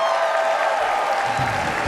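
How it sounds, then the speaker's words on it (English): Oscars audience applauds for the Academy Awards orchestra, a dense, steady wash of clapping and light cheering filling a large hall, loud and continuous throughout. "let's have a round of applause for our maestro tonight, Ricky Minor and his Oscar Orchestra"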